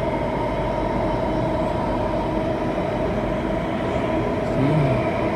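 A metro train running through a dark, unlit tunnel after leaving the station, with a steady, loud rumble and a constant tonal whine heard from inside the carriage.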